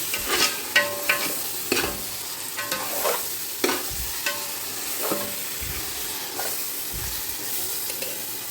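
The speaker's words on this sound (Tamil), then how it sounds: "நல்லா மிக்ஸ் பண்ணிக்கலாம்" Repeated scraping stirs of biryani in a pot, each stroke clinking softly against the metal over a steady background sizzle.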